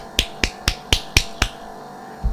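Six sharp single hand claps ring out at an even pace, close and crisp, followed by a softer seventh right at the end.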